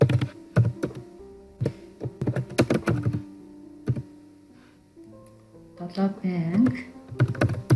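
Close-up computer keyboard typing as a group name is entered, heard as bursts of sharp, irregular key clicks with short pauses, and someone speaks briefly in the middle.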